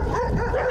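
Stray dogs at a bus terminus by a landfill bark and yip in a dense, loud, continuous chorus, close by, with no talk.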